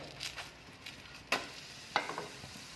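A flipped egg and rice pancake sizzles faintly in a pan, with a few sharp spatula clicks and small crackles over a quiet frying hiss.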